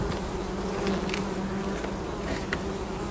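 A dense, steady drone of honeybees buzzing at an opened hive, close and continuous, with no speech.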